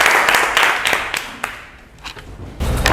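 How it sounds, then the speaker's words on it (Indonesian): Students in a classroom clap their hands in several loud bursts, the clapping fading briefly before picking up again at the end. "Oke, tepuk tangan"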